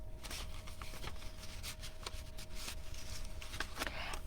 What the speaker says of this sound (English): Put it into the envelope in this way,